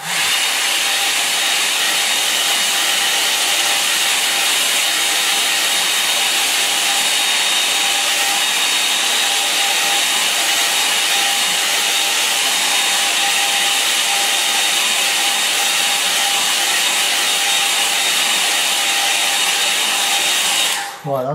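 Hair dryer blowing over a small watercolour painting to dry it, a steady loud whooshing whine held for about twenty seconds without change, then cut off abruptly at the end.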